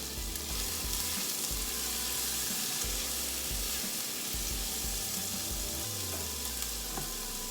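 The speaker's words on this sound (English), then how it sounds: "I'm gonna add in my onion now, and that'll tame it just a little bit" Half an onion frying in a pan, a steady close sizzle with faint scraping and clinks of stirring, no voices.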